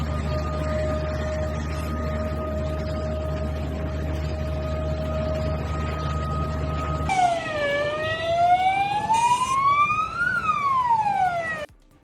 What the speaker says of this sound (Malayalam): അപായ സൈറൺ മുഴങ്ങി